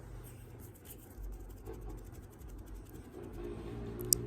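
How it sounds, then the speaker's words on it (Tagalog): A low engine rumble from a motor tricycle idles and putters outside, fairly faint and steady, with a brief sharp click near the end. "malakas yung tunog ng tricycle"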